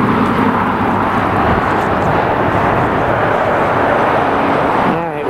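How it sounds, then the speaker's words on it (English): A passenger airplane landing at LAX in Los Angeles gives a loud, steady broadband roar that fills the whole stretch and eases off slightly at the very end, with traffic noise mixed in. "we got a plane landing"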